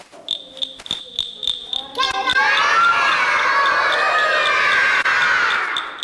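A few rhythmic high chirps and claps, then a group of children join in with shrill, sustained chirring voices imitating crickets, loud and close.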